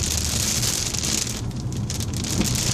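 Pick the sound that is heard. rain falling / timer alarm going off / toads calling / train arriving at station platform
rain falling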